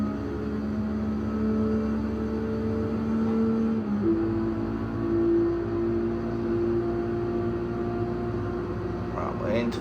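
Sustained car engine drone from Gran Turismo 7, droning steadily with a pitch shift around the midpoint as if shifting gear, then holding a constant high-speed tone; continuous, loud and close throughout, with no talking.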